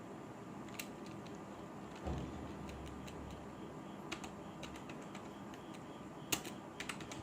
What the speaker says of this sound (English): I want to enter new fields, so I will type here employee number